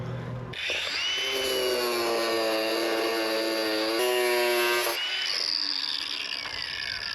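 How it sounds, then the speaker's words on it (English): An angle grinder cuts through boat chain with a loud, steady, high whine for several seconds. Its pitch sags slightly under load before the tone drops away. "so let's get the grinder out"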